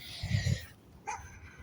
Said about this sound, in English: Stupid dog's still barking.